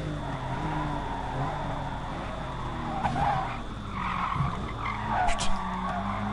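A Porsche 911 RS race car in the racing game Gran Turismo Sport brakes hard, its tires squealing and skidding over a steady engine drone, with engine pitch sweeps and rising squeal bursts toward the end.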